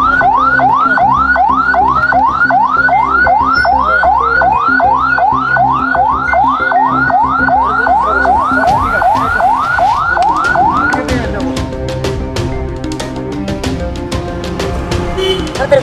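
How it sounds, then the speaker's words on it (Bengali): An ambulance siren wails loudly in a fast, steady, rising and falling cycle, then cuts out partway through and leaves clattering background noise behind it. "ওই তো অ্যাম্বুলেন্স যাইতেছে।"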